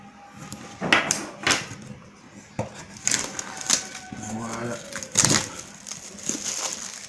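A Tecno Camon X smartphone box is unboxed, producing scattered cardboard taps, scuffs and crinkles close to the mic, with a voice speaking now and then.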